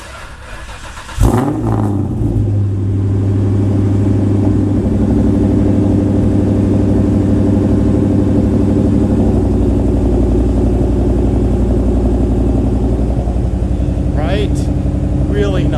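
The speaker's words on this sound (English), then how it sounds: "we know Mustangs sound so good with exhaust" Ford Mustang Mach 1 fitted with an aftermarket exhaust starts with a sharp burst, then holds a loud, deep, steady rumble for over ten seconds, with a voice talking over it.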